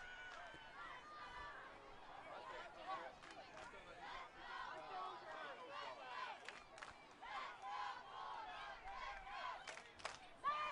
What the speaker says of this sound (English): cheer side has exploded with life.